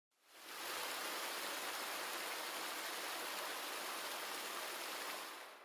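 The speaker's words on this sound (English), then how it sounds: "I think I'm using the waterfall splash one." Waterfall splash sound effect: a steady, dense roar of falling water that fades in over the first half second and then holds loud and even throughout, with no voices.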